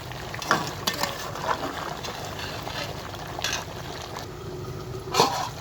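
Beef sizzles steadily in a hot pan while a spatula scrapes and stirs it in occasional sharp strokes, close and clear.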